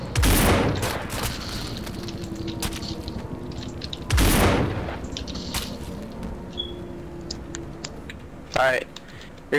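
Loud shots ring out in the zombie video game No More Room in Hell, two heavy blasts a few seconds apart followed by a sharper crack near the end, with a person talking over the game sounds between them.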